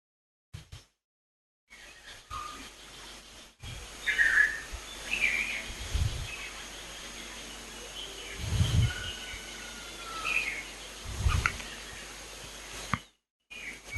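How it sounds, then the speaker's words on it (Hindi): Birds sing outdoors at a peace park: scattered chirps and short whistled calls at middle distance, mixed with occasional low thumps and soft background noise, after a brief silent gap at the start. "पक्षियों की आवाज की तरफ।"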